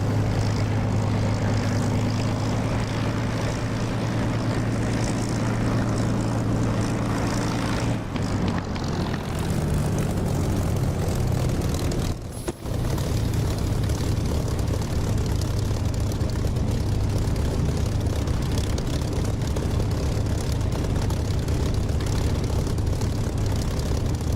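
A Spitfire's propeller engine drones in the DCS flight simulator, a loud, steady, close rumble that holds throughout with a brief dip in pitch partway through, and no voices.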